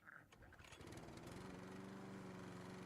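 Lawn mower engine starts up and settles into a steady, loud drone with a constant pitch, with some voices or clatter at the start before the engine takes over.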